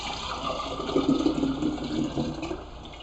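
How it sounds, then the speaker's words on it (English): Water kefir is poured from a jar through a strainer into a second glass jar, a soft, steady close-up trickle and splash that swells briefly and then tapers off. "we're going to dump our water kefir into this jar"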